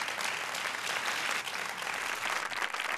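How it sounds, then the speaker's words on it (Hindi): A television reality show studio audience breaks into loud, dense applause for a contestant, steady clapping filling the whole stretch. "जोरदार तालियां बालू जी के लिए"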